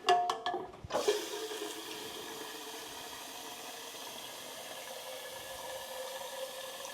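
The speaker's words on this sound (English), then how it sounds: "And then dilute the rest with water." A few clinks at the start, then a steady, hissing rush of water pouring into a container to dilute a plant-watering mix, even and continuous with no talking.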